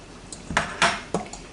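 A bunch of chopped green onions is dropped into a beef and egg noodle casserole mix, with a few quick, close clinks and soft thuds of utensils against a dish, and no talking.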